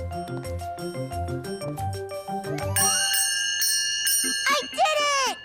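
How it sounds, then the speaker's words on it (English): A small hand bell rung by a child character in a cartoon, bright repeated dings and jingles sounding over music and voices. "I'm going to ring the bell first."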